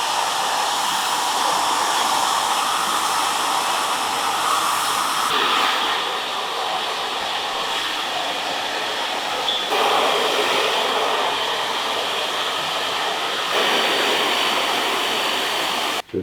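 A hair dryer fitted with a diffuser runs on high heat at low to medium speed, drying long, loose curly men's hair. It gives a steady, close airy roar that holds for the whole stretch, with slight shifts in tone as it moves.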